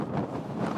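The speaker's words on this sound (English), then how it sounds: "it's a pretty windy day today, so you might hear some of that wind noise" Steady, dense wind buffeting on an outdoor lavalier microphone on a windy field, a continuous low rumble with gusty swells and no pauses, fairly loud and alone.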